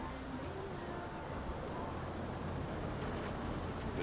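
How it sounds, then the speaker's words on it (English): Soft rain in the submarine game UBOAT patters in a gentle, even hiss, with a low steady hum underneath and no voices. "a little soft rain falls this time around."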